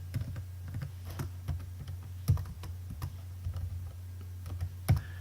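Close, steady typing on a computer keyboard while entering programming code, irregular quick clicks over a low constant hum, with no talk.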